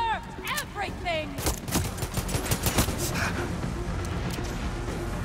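Gunfire in the video game Far Cry 6: a burst of rapid broadband shots in the first half, then a denser busy game soundscape, with a voice talking over the action.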